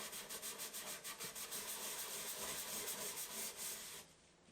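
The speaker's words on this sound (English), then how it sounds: "I'll keep going and do a time lapse for you guys of me scrubbing my grill" Someone scrubs built-up grease off the inside of a Ninja Foodi Grill XL in quick, close, rhythmic back-and-forth strokes that go on for about four seconds and then stop.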